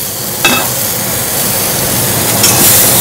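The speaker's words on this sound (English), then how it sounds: "we got them sizzling away here" Sliced sunchokes frying in a pan in a home kitchen give off a steady, close sizzling hiss, broken by a couple of short clinks of a utensil against the pan.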